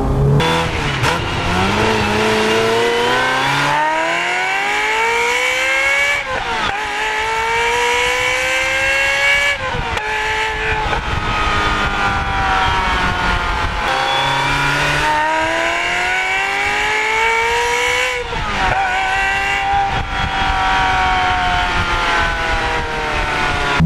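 Ferrari 355 Berlinetta engine accelerating hard on the road, loud and close, revs climbing through repeated gear changes with brief dips between pulls, no talking.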